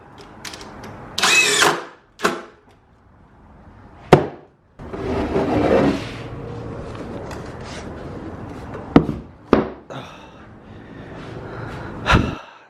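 Power drill driving the last screw into homemade 2x4 wooden car stands: several short, loud bursts of motor whir with gaps between, close by, then a few sharp knocks and handling sounds.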